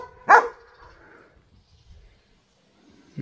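A dog gives one sharp, close bark, which then fades into quiet with faint background rustle and a soft sound near the end.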